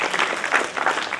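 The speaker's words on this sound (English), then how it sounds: "Big clap." Brief burst of hand clapping from a small group, quick and fairly close.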